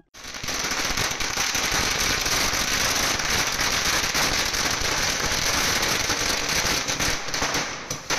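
Firecrackers burst in a long, dense, unbroken crackling barrage outside a house at a political celebration, loud and close throughout.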